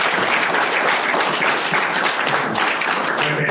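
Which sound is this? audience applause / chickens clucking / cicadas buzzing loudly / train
audience applause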